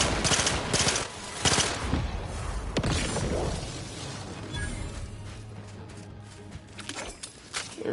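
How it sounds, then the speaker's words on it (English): An explosive pistol fires in the sci-fi shooter Outer Worlds 2, with rapid, loud crackling shots and blasts that blend into a dense burst and then ease into rumbling echoes. "Very nice explosive pistol, though."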